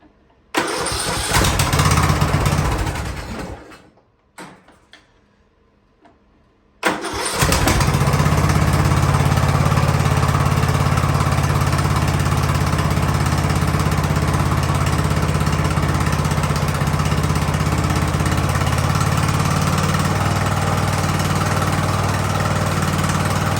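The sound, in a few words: Ariens riding lawnmower engine starting, idling and dying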